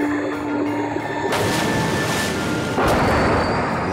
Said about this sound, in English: The air forced the missile out of the tube at over 50 miles an hour.